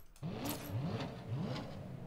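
A luxury sports car engine in the video game Saints Row revs in short repeated rises, each climbing in pitch before dropping back, a smooth, powerful tone heard up close.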